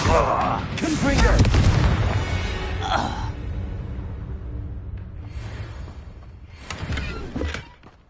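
A Confringo blasting spell goes off in Hogwarts Legacy, giving a loud, booming burst in the first two seconds, followed by a smaller crack near three seconds and another swell of noise near seven seconds against game ambience.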